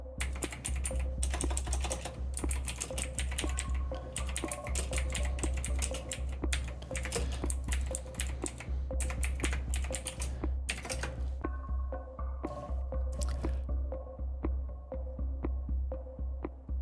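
Rapid clicking of a computer keyboard in close bursts with short pauses, a query being typed over a low steady hum, slowing to scattered keystrokes near the end.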